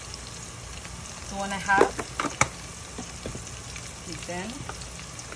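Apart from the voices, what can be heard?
meat frying in a pan after marinating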